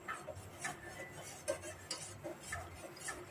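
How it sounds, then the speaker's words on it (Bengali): Custard is stirred continuously in a saucepan, a utensil scraping and tapping against the pan in a steady repeating rhythm, close but fairly quiet, with no talking. "এখন এটা অনাবরত নাড়তে হবে এভাবে করে সুন্দরভাবে নাড়তে হবে"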